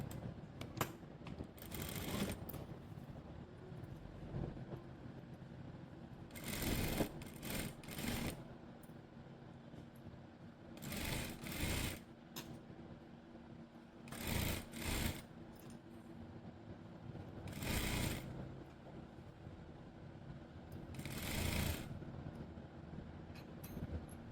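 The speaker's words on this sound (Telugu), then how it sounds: "దీని చివరే కుట్టు వేసుకుందాం." A sewing machine stitches fabric for a government school uniform coat, running in several short bursts separated by pauses, fairly close and moderately loud with no talking.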